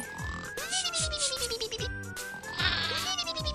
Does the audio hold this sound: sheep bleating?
yes